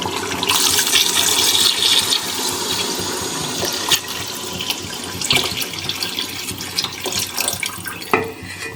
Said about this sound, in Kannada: ಸೊ ಇವಾಗ ನೆಕ್ಸ್ಟ್ ನಾವು ನೀರು ಹಾಕ್ಕೊತೀನಿ